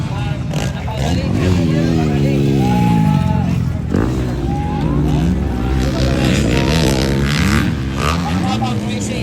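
Honda production motocross motorcycles roar and rev continuously close by during a race final heat, pitch rising and falling as they race, with people talking over the noise.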